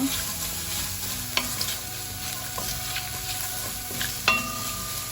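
Vegetables for Korean japchae sauté over medium heat, giving a steady close sizzle with the scrape and clink of stirring breaking through now and then.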